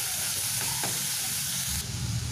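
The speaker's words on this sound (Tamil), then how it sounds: "இதில் இந்த வெங்காயம் ஓரளவுக்கு நல்லா வதங்கட்டும்" Onions sautéing in a pan for a chutney, a broad steady hiss of frying with a couple of brief stirring scrapes, fairly close and constant.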